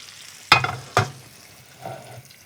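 Steak sizzles in a Gozney XL pizza oven, with two sharp bursts of frying as the meat goes in, then a fainter sizzle fading into low background noise.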